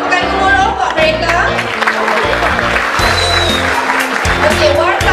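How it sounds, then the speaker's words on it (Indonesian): Students clapping for the school TV crew at a school TV launch event. The applause sits under loud music with a strong bass line, and a voice is audible through it. "Baik, tepukan gemuruh buat mereka."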